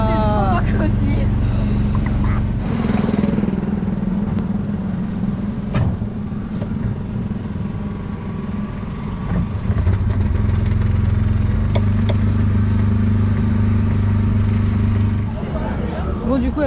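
Small petrol-engined Autopia ride cars at Disneyland Paris drone and rumble close by, their engine tone shifting as they drive along, with people talking over the noise throughout.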